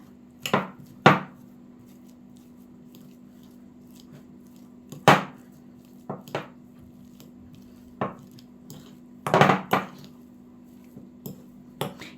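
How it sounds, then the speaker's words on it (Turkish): Boiled potatoes are mashed with a fork or potato masher, giving sharp, separate impacts against a bowl at uneven intervals with pauses between strokes. A steady low hum continues in the background. "Çatal yardımı ile veya patates ezicisi ile ezelim iyice."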